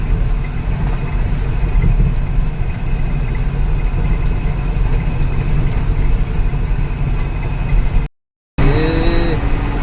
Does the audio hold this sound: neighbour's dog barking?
no